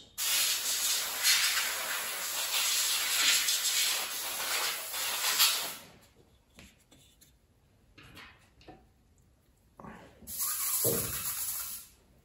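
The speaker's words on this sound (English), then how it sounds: "I've got my airbrush ready. There's nothing in it, it's just for air to blow the loose stuff off" An empty airbrush blows bursts of air to clear loose material off a 1/35 scale Scammell Pioneer R100 model cab, a close, sharp hiss lasting several seconds, then quieter handling sounds before another short hissing burst.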